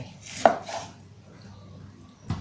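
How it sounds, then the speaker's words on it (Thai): A knife slicing raw pork on a cutting board makes one sharp knock, followed by faint scraping and a second soft tap near the end in a quiet kitchen. "อย่างแรกเราเอา เนื้อหมูมาหั่นก่อนนะคะ"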